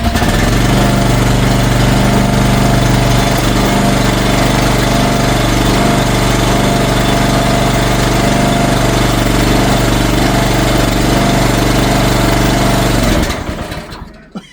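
A Chinese MX15RX mini excavator's small engine runs steadily at close range, a loud, even mechanical drone with a rattling pulse that holds for most of the stretch before the engine is shut off and cuts out at the end.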